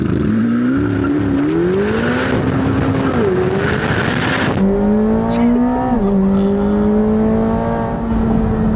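A Chevrolet Corvette C8 Z06 accelerates hard uphill with wheel spin, its engine note climbing loud and close through rising revs, a brief shift break midway, then pulling strongly again to the end.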